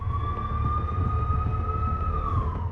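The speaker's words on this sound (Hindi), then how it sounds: "हाईवे पर सायरन बजाती एम्बुलेंस पूरी रफ्तार से दौड़ रही थी।" An ambulance races at full speed along a highway, its siren holding a loud, steady wail over a heavy rumble of engine and road noise, close and constant throughout.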